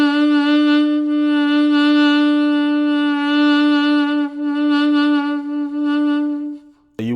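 A saxophone holds one long sustained tone with a wavering, uneven vibrato whose pulses shift in depth and speed. It plays alone and loud, dips briefly near the end, then cuts off.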